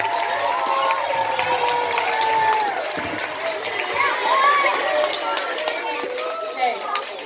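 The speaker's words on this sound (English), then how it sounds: "let's give a round of applause" At a school yearbook dedication assembly, an audience applauds with dense clapping, whoops and cheers that fill the room, while overlapping voices chatter throughout.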